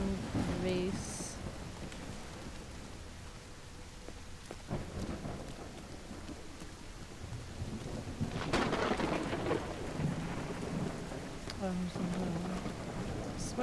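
Heavy downpour and rolling thunder in the video game Call of the Elder Gods, a constant hiss of rain with a deeper thunder swell building toward the end.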